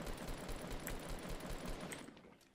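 Gunfire in the Fortnite video game, with rapid bursts of suppressing fire crackling steadily for a couple of seconds before fading out, and no voices over it.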